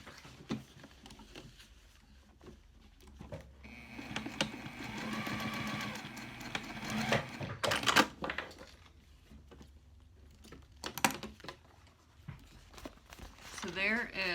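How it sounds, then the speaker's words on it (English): Sewing machine stitching a wallet of cork and barrier fabric, a fast mechanical run of needle clatter lasting a few seconds, set among handling rustles and quiet talking. "I'm going to stitch just along this line"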